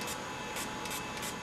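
An HVLP spray gun applies Smart Coat protective coating, giving a steady, close hiss of atomizing spray with short brighter bursts as the trigger is pulled, alone without talk.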